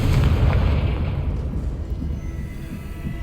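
Confringo fire spell from the PS5 game Hogwarts Legacy erupts in a loud, deep explosive boom, a rumbling blast that slowly decays across a few seconds with no talking.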